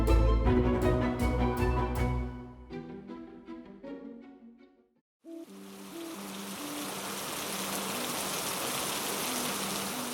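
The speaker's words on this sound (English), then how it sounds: "Pretty convincing rainfall" Steady rainfall hisses evenly for several seconds after a brief run of plucked, bell-like musical notes fades into a short silence; a soft melody continues faintly beneath the rain.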